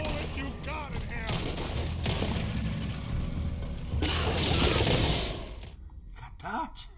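Gunfire in the Red Dead Redemption 2 video game, loud and sustained, with dense overlapping shots, a louder burst near the end, and people talking and shouting over the shooting.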